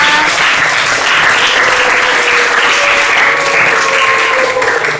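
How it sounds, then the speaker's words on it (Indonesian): A room of people applauds group 2 at a school teaching-practice session, steady dense clapping sustained throughout with a faint tonal whistle or voice running through it. "Tepuk tangan dulu untuk kelompok 2."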